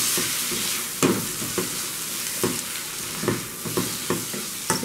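Tomato sizzling in a hot frying pan for a pasta-with-tuna dinner, a steady fry with repeated sharp crackles and stirring scrapes close by, no talking.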